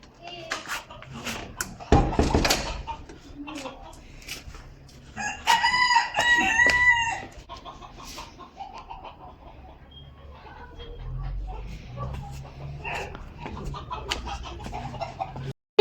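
A rooster crows loudly once near the middle among chickens clucking in a yard, with sharp bursts of activity early on and people talking quietly in between.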